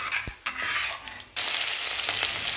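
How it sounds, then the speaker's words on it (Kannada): Mustard seeds and urad dal frying in hot oil in a pan, a few sharp stirring clinks and then a sudden louder, steady sizzle. "ಅದು ಕಾದ ನಂತರ ಸಾಸಿವೆ, ಉದ್ದಿನ ಬೇಳೆ ಅನ್ನು ಹಾಕಿ ಚೆನ್ನಾಗಿ ಬಾಡಿಸಬೇಕು"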